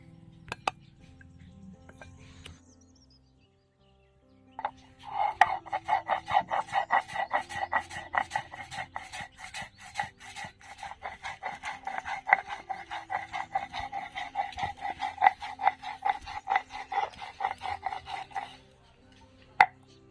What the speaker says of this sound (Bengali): এবার আমি এগুলো সবগুলো একসাথে বেটে নেব